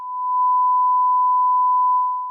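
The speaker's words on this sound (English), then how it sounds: "I will often randomly beep a word on this show just because I think beeps are funny" A single steady censorship beep, one unbroken pure tone held for over two seconds at constant loudness, with no other sound around it.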